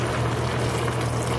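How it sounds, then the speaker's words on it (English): Water pours steadily into a pot of Trini curry long beans (bodi) cooking on the stove, a close, continuous rushing splash with no break and no voices. "Alright, so I'm adding water."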